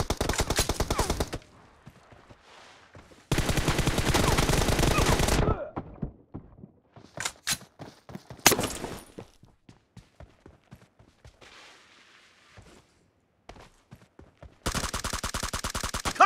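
Bursts of M416 assault rifle fire in a video game, with sustained loud volleys at the start, the middle and the end, and quieter gaps between them holding scattered single shots and faint background noise.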